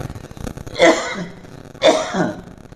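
Two sharp, close coughs about a second apart, each a harsh burst fading quickly, over quiet background.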